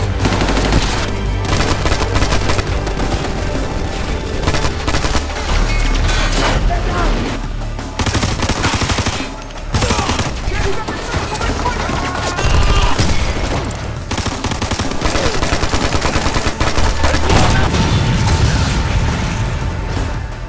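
A big firefight from the video game Ghost Recon Future Soldier, with loud, dense bursts of machine-gun and rifle fire, heavy booms and explosions, sustained with only brief lulls.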